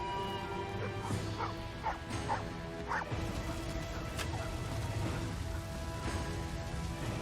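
Dog barking in the video game Shadow of the Road, several short barks and yips spaced through the scene over a steady rain-like ambient bed, no talking.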